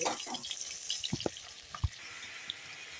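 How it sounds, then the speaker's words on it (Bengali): Large potato pieces fry in oil with a soft, steady hiss, faint and fairly distant, with a few light knocks from the spatula. "আলুগুলো ভেজে নেব, সুন্দর লাল লাল করে ভেজে নেব"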